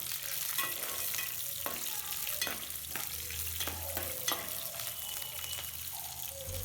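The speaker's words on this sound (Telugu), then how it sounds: "ఇవి ఇలా ఫ్రై అయ్యాక ఘాట్లు పెట్టిన పచ్చిమిరప వేసి కలపాలి." Green chillies frying with broken dried red chillies in hot oil for tamarind rice, a steady close sizzle with occasional stirring scrapes throughout, no talk.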